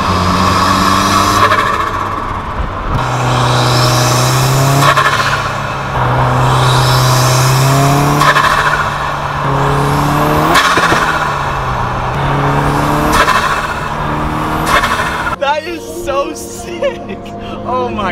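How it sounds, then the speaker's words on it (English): A 2016 Subaru WRX drives along with its turbo engine rising and falling through several loud revving sweeps and gear changes, a fluttering whoosh between them, while people talk inside the car. "2016 Super WRX turbo flutter, let's go."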